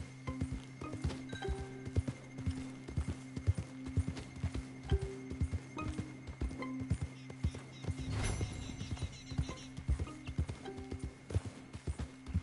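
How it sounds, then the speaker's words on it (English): Rhythmic clip-clop of horse hooves trotting in a video game over steady background music, with a brief horse whinny partway through. "Hope I can get on my horse by now."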